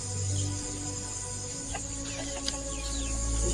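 Backyard farm chickens cluck in short bursts over a steady background hum, their calls fairly faint and scattered across a few seconds with no talking.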